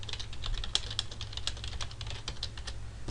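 Steady typing on a computer keyboard, quick irregular key clicks running without pause over a low background hum while a welcome message for new members is entered.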